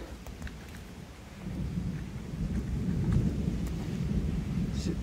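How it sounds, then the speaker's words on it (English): Thunder rumbles low and long during a rainstorm on a farm, building over a few seconds with steady rain hissing underneath and no talking. "And we've got thunder."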